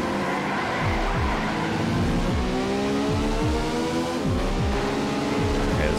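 Race cars from the PS2 racing game Alfa Romeo Racing Italiano, with engines roaring steadily and repeatedly revving up through gear shifts, loud and continuous.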